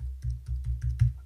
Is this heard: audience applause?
no